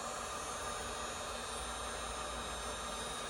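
A 1,000 watt heat gun blows steadily throughout, a continuous airy hiss with no breaks, heard alone at close range while a pot metal trim piece is being repaired.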